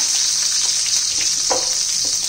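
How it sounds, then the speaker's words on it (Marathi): Three or four green chillies roast in a little oil in a pan, giving a constant bright hiss with a couple of soft stirring scrapes, close and with no voices. "त्याच्यामध्ये मी 3-4 हिरव्या मिरच्या घेतलेल्या आहेत, त्या भाजून घेऊया"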